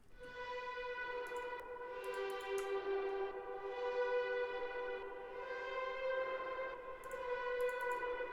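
A Nexus synth melody on the PL Cremalog preset, a soft sustained harmonic line for an ambient beat, with brief bright ticks above it. It plays quietly and evenly for about eight seconds, with no voice.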